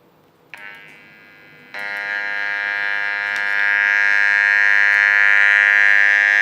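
A steady electronic test tone from a two-stage analog audio amplifier sounds alone, stepping up in loudness partway through and then holding as a bright, sustained buzzy pitch.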